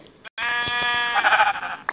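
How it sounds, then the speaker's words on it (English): Sheep bleating in Minecraft, a single clear, loud, wavering bleat that starts after a brief silence and runs close and steady for over a second, with no talk over it. "I have two sheep."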